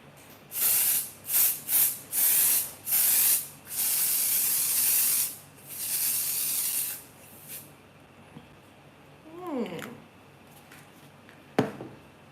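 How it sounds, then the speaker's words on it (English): Seromac Seal It setting spray mists onto a face during a makeup routine, with a series of several short, loud, close hissing bursts followed by a longer spray, then quieter rustling and faint handling sounds. "we're going to use this Seal It spray from Seromac just to seal that up completely"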